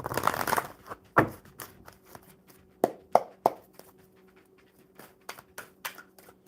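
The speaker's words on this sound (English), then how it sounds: "one more good shuffle for Sunil" A quick riffle of a deck of tarot cards opens, followed by scattered crisp taps and flicks as the deck is handled, near and fairly quiet.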